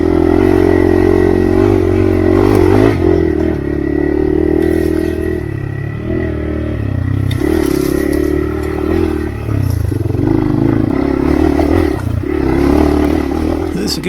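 A Hero Xpulse motorcycle climbs a steep uphill trail over loose rocks, its engine droning steadily and close throughout while stones clatter and scrape under the tires.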